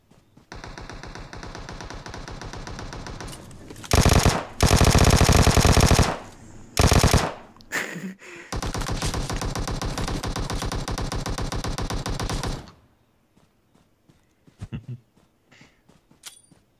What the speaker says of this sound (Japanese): 銃声